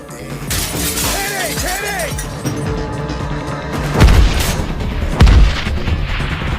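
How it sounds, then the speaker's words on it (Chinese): Gunfire in a film scene during a hostage rescue raid on kidnappers, dense and loud with heavy booming shots and sharp cracks mixed into a busy action soundtrack with music, two especially strong blasts standing out toward the end. "汉克更是霸气出击，毫不躲避的把对面打成了筛子"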